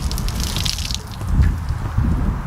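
A car wash mitt sloshed and rinsed in a bucket of water, a close, steady churning splash with low gurgles and drips running throughout.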